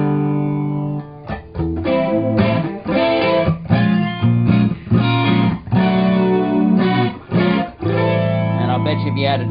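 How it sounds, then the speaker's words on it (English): An electric guitar plays through an analog flanger pedal, giving loud strummed chords a swirling, jet-like sweep. The notes come in rhythmic bursts with short gaps between phrases. "That's an analog flanger."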